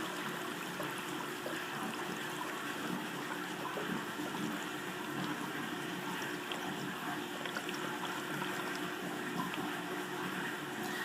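Water from an aquaponics grow bed drains steadily through a bell siphon, a continuous rushing, gurgling flow that holds an even level throughout with no voices.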